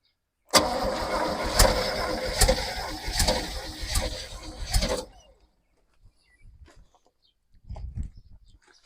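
A junkyard-rescued 1969 Chevy C40 truck engine cranks in a steady rhythmic series of loud pulses for several seconds, then falls silent, followed by faint low rumbles and brief quiet sounds.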